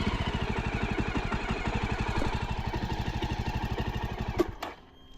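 A Jawa Bobber 42 motorcycle idling up close, with a steady rapid thumping beat that abruptly cuts off as the engine shuts down near the end, no talking.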